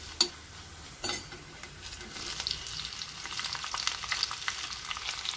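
Onions tossed into a pan where ginger, garlic and coconut pieces are already frying, a steady soft sizzle with a couple of sharp clatters at the start, then continuous stirring scrapes, close and without talk.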